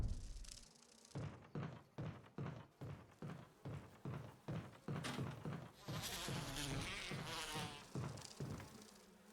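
Bees buzz in the video game Resident Evil (2002), a droning insect hum under a regular series of dull thumps that give way to a louder, denser buzz.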